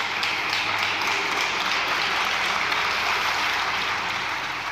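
Deputies in a Spanish parliament chamber applaud together, a dense, steady wash of clapping from many hands that fills the room evenly for several seconds, with no speech over it.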